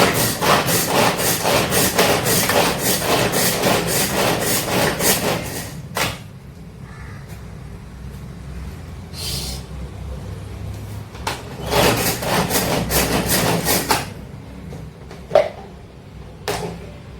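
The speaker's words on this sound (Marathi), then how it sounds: "एकदम बारीक कांदा. याला बोलतात बारीक कांदा कापणं. कमाली मशीन." A hand-operated onion chopper finely dicing onion, giving a fast, steady run of scraping, rattling strokes up close for several seconds, then a pause with light clicks and another burst of rapid chopping.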